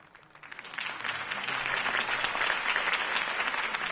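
Video game crowd applause swelling up quickly and holding steady in the Batman Telltale series, a dense wash of clapping with no voices on top.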